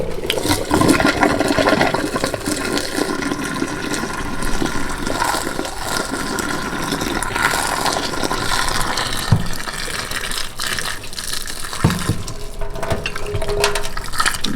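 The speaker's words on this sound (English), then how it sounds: "I'll probably boil some water actually and pour that down the sink" Boiling water poured into a blocked sink churns and gurgles with a continuous rushing, rattling drain noise, close and steady, with a few sharper knocks along the way.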